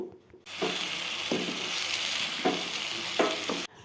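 Vegetables spatter and hiss in a hot frying pan while a spatula scrapes and stirs them in several distinct strokes, close and steady, no talking.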